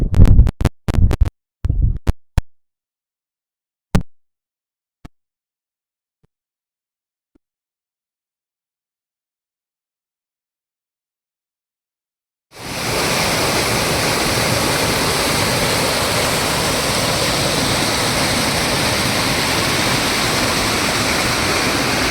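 Water released from an old, roughly two-century-old dam in Chamarajanagar rushes into the river as a steady, loud, broadband roar. It follows several sharp knocks and a long stretch of near silence.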